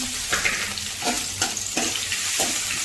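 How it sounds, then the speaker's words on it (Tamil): Onion, garlic and curry leaves fry in coconut oil in a pan after mustard seeds have popped, giving a steady close sizzle with periodic scraping stirs. "நல்லா வதக்கணுங்க பச்சை வாசனை போகிற வரைக்கும் வதக்கிக்கலாம்"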